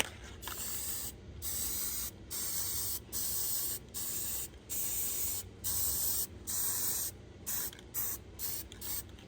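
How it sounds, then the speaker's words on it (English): Gold spray paint hisses from an aerosol can onto metal hardware in a rapid series of short bursts separated by brief pauses, close and steady throughout. "So as you can see, when I spray, I am about 12 inches away"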